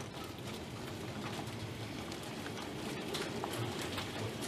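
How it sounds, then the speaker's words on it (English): Hail and hard rain pelt a yard during a storm, a faint, steady patter with scattered sharper ticks, heard alone without voices. "You can see the hail hitting out here now."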